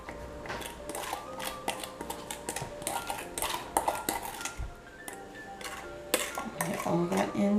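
Burger steak meat mixture tipped into a bowl of marinade, with a busy run of clinks, scrapes and knocks of utensils against the bowl, close and fairly loud throughout.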